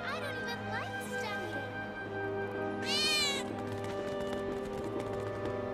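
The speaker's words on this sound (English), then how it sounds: "did you hear that just now? I think one of Betty's cats might be nearby" In Final Fantasy VII Remake, a cat meows several times, with a drawn-out, rising-and-falling cry in the middle, set against a steady hum of game background sound.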